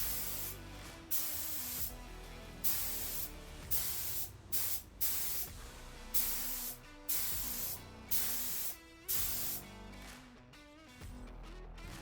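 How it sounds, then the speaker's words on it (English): Repeated bursts of spray hissing from an aerosol can spraying black latex onto a piece, each lasting about a second with short pauses between, close and steady, with no talking. "I'm going to be spraying 2 layers of black latex onto my piece."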